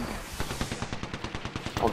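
EVA-8 shotgun fire in a fast-paced shooter game, a rapid rhythmic string of punchy, close bursts repeating evenly for about two seconds.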